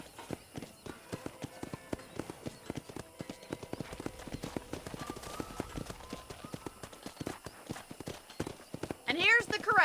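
In Red Dead Redemption, a horse walks at a ranch corral, its hooves clip-clopping in a steady, close rhythm, and a short neigh rises near the end.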